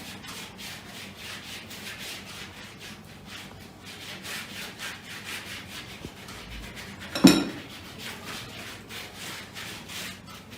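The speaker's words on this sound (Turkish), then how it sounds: "Fırçamla dağıtıyorum." A pastry brush rubs oil across thin börek dough for a leek börek, with soft repeated swishing strokes close by and one brief sharper knock near the end, no voices.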